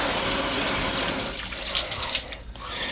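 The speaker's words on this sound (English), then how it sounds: "Just make sure we're getting hot water out of it." Water pours steadily from an outdoor Speakman shower head at a summer home, a loud, continuous hissing spray that briefly thins near the end, with no talking.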